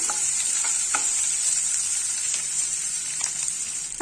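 Green chilli sautés in a pan, giving a continuous bright sizzle and hiss with faint, occasional stirring ticks, close and steady, without any voices.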